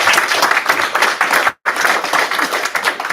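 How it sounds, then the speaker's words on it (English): A city council meeting room fills with sustained, dense applause from a crowd, loud and near, broken by a brief sharp dropout in the middle before the clapping resumes. "All right. Well, another round of applause."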